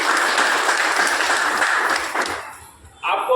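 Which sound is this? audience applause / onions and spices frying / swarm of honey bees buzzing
audience applause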